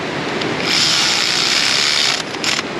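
A power tool tightens a gasket bolt on the 2.4-liter engine of a Chrysler PT Cruiser. It gives a steady, close whirring burst for about a second and a half, then winds down and briefly revs again near the end.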